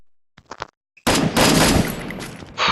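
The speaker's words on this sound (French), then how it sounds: "Il compte me buter avec un flingue." Gunfire in the mobile battle game Free Fire: a few short sharp shots, then a loud dense burst of rapid automatic fire lasting over a second, close and harsh.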